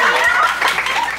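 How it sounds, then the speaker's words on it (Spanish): A brief burst of applause for a startup named Venu at a pitch event, dense clapping heard near and loud with a few faint voices mixed in. "Un aplauso para Venu."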